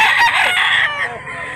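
A bull stag rooster in Barili, Cebu crows once, close and loud, a long strained call that trails off toward the end.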